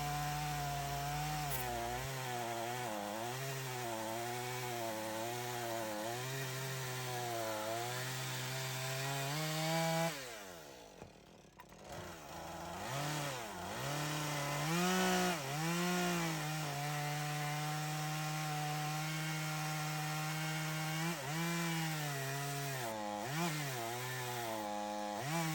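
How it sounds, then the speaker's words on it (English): A chainsaw cuts down through a wooden post while notching posts for a cabin build, its engine droning loudly and revving up and down under load, dipping briefly midway before roaring steadily on through the cut. "Then we use the chainsaw to cut down through the post."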